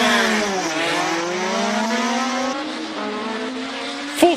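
A 1979 Mark 79A race car with a 2-litre four-cylinder engine on slick tyres at a Cape Town hillclimb, its engine climbing and dropping through several sharp gear changes, loud and close, with a short squeal at the end.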